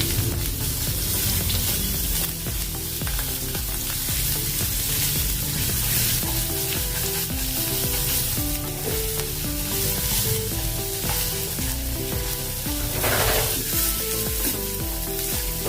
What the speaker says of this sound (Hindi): अभी इसमें डालेंगे अदरक, लहसुन और हरी मिर्च का पेस्ट। अच्छे से इसको भूनेंगे।